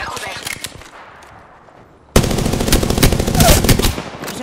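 Automatic gunfire in Apex Legends: scattered shots at a moderate level for about two seconds, then a sudden loud, dense stream of rapid rounds that continues to the end.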